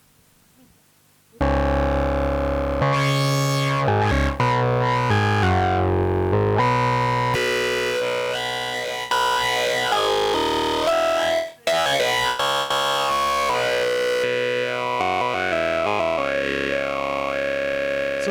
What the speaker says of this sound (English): synth voice for Eurorack in 12 HP, and it sounds a bit like this